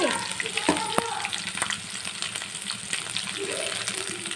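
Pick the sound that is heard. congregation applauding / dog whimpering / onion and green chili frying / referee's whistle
onion and green chili frying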